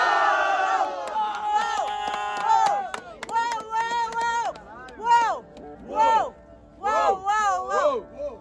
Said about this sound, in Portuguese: Eu quero o grito do meu povo.